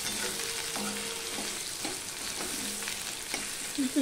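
Pieces of bay leaf sizzle in hot oil during a tempering, a steady frying hiss with scattered soft crackles and light spoon taps, fairly close and without talk.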